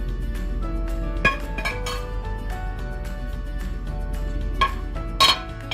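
Plates and utensils clink sharply a few times while a hot Philly cheesesteak with Swiss cheese on a rosemary sea salt hoagie is set out in a kitchen, light scraping and taps between the brighter dish knocks.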